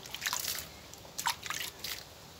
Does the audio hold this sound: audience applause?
no